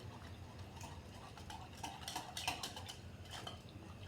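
A spoon clinks and scrapes steadily against a mixing bowl while custard powder is stirred into a cup of milk, with close, repeated metallic taps and light liquid swishing and no talk.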